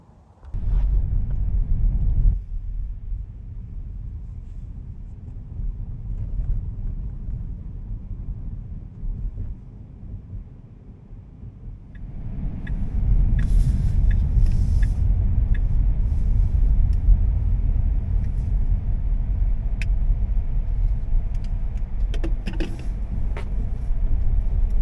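A Tesla Model 3 Performance drives on the road, giving low tyre and road rumble with wind noise that eases for a while, then grows louder and steadier for the rest of the drive.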